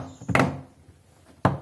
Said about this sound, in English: You have to hear and feel all the pins go together